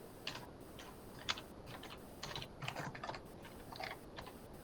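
Keys clatter on a computer keyboard as a title is entered, a soft, quiet run of uneven taps in short bursts with brief pauses, no voices.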